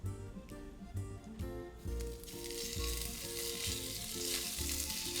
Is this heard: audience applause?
no